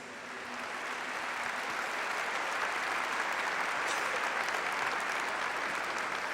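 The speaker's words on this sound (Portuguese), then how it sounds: "Vamos aplaudir a palavra de Deus." Congregation applauding after a Gospel reading at a Catholic religious gathering, a dense, even round of clapping from many people that swells in over the first second and holds steady.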